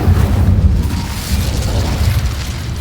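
Incendio fire spell cast in a Harry Potter video game, a loud booming fiery burst that roars continuously with a heavy low rumble and crackle, sustained for the whole moment without talk.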